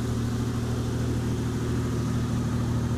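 A 1995 Toyota T100 SR5 engine idles with an exhaust leak, giving a steady low rumble that stays even and loud at close range for the whole clip, with no voices.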